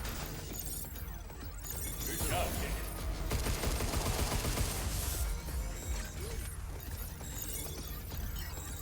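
Dense rifle and carbine gunfire in the sci-fi video game Pragmata, sustained bursts mixed with crashes and shattering effects, loud and continuous under game sounds.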